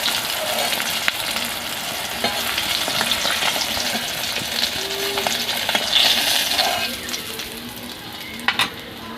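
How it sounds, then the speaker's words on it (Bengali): Cut pieces of fish fry in hot oil in a kitchen, giving a steady, dense crackling sizzle throughout, with occasional small pops and utensil clinks and no talking. "মাছটা একদম আমার সুন্দরভাবে লাল লাল করে ভেজে নিয়েছি"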